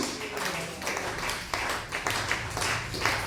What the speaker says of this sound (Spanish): Aplauda el nombre de Jesús